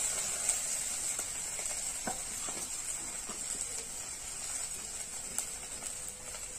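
Spice paste with chopped chillies sautés in a pan for a fish curry, a soft, fairly quiet sizzle with scattered stirring taps and clicks and no talk.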